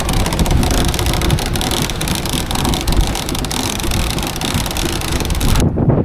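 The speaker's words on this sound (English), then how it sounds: "Pretty windy still." Strong wind at sea on a sailboat off Turkey roars and buffets the microphone continuously, with a low engine-like rumble beneath, cutting off abruptly at the end.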